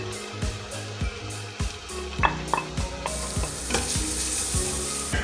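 Garlic paste and a sauce mix frying in a pan while cooking pork ribs, steady sizzling with several stirring knocks, the hiss swelling louder partway through, all beneath a background tune.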